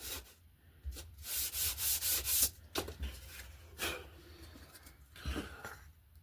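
Sandpaper rubs back and forth over a wooden joint on a Slec Coyote RC glider, a quick run of rhythmic scratchy strokes up close, then a few scattered softer passes with pauses between.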